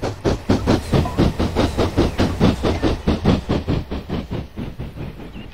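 A train in Train Simulator 2013 on the Bath Green Park to Wincanton line gains speed with a loud, steady, rhythmic chugging pulse of about four beats per second, with no talk.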